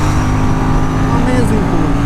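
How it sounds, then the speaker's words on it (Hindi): An Aprilia Tuono 457 motorcycle pulls hard in fifth gear as the throttle opens, giving a loud, continuous engine roar with wind rush close to the rider. "इनफैक्ट 5th गियर पे भी अगर मैं थ्रॉटल ओपन करता हूँ ना"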